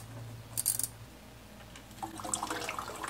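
Power steering fluid drains from a BMW E34, a faint trickling, splashing pour of liquid with a brief metallic clink, heard close over a low steady hum.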